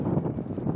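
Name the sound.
wind noise on microphone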